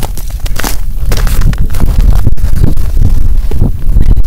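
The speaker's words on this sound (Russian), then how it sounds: "Ветер поднялся." Loud, gusty wind buffets the microphone on a frozen lake during winter ice fishing, with constant rumbling and crackling, with no voices.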